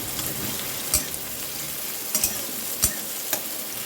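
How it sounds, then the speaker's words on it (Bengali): Chopped onion and slit green chillies fry in a pan, hissing in a constant loud sizzle broken by a few soft knocks from stirring, with no voices. "পেঁয়াজ কুচি আর কাঁচা লঙ্কা চেরাটা দিয়ে দিলাম, এটা আমি ভাজবো।"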